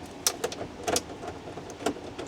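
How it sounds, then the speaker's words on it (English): Plastic cracks and snaps as the instrument cluster is pried out of a DMAX dually truck dashboard, a few sharp, fairly quiet clicks and pops scattered over a couple of seconds. "I just heard plastics cracking."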